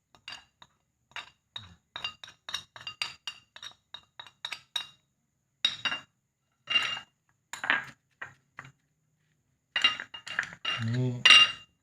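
A utensil chopping and mashing plant slime in a bowl for a hair-darkening mixture, producing irregular bursts of clinking taps against the bowl separated by short pauses, close and fairly quiet.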